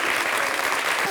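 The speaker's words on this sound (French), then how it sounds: "Applaudissements pour nos invités, beaucoup, surtout pour ce petit-là." A studio audience on a French daytime talk show applauds its guests, a dense, steady wash of clapping filling the whole moment at close, even loudness.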